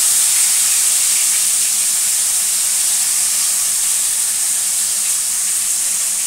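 Potatoes and tomatoes fry in hot oil with cumin seeds, giving a loud, steady sizzling hiss that holds evenly without a break.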